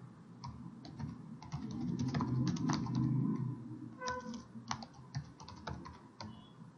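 Project name and description being entered on a computer keyboard while setting up a SeLion browser test automation project: close, crisp keystrokes in quick irregular runs with short pauses, over a low steady room hum.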